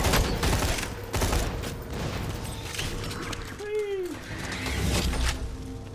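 Turret gunfire in the Borderlands 2 video game, bursts of rapid shots over a busy, loud game mix, with a whooshing sweep in the middle and a voice talking over it.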